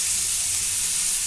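Ridge gourd peel and tomatoes frying in a pan, a dense, loud, continuous sizzle with steady bright hiss and no distinct stirring strokes or voices.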